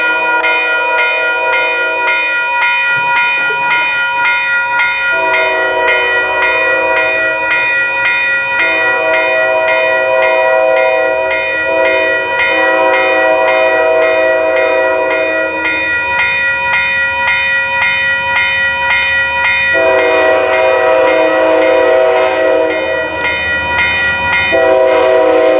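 BNSF freight train rolling past close by, its horn sounding in long chords repeatedly over steady rumble of wagons, loud and continuous.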